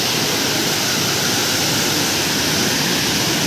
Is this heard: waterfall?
yes